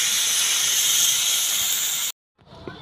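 Loud, steady hissing sizzle as water hits a hot pan holding squash, potato and peas, running continuously for about two seconds, then cutting off abruptly and leaving a few faint clinks.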